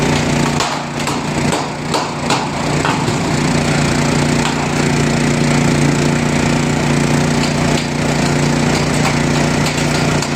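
A generator runs steadily at a construction site, powering three small welding machines, its low engine drone continuous and loud throughout with faint clatter and knocks from work nearby, and no one speaking.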